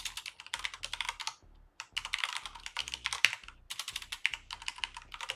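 Rapid, close clatter of keys on a computer keyboard while C# code is typed, coming in quick bursts with one short pause near the middle, no voices.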